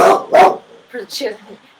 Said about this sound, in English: We have our dog Dexter here.